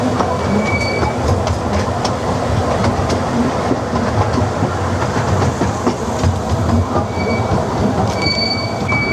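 Miniature train rolling through Drayton Manor park, continuous clattering wheels and squealing on the track, loud and close, running steadily with no talk.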